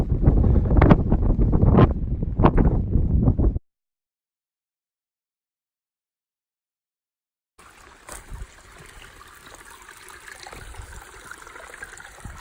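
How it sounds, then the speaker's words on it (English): Strong gusts buffet the microphone on an Appalachian Trail ridge near Black Rock Overlook in Virginia, with heavy bursts of wind roar, then a silent gap, then a lighter, rustling wind. "it's very windy today"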